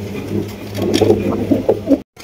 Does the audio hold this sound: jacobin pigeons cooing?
yes